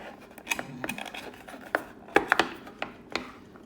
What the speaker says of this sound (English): And you just crush it and you have the garlic down there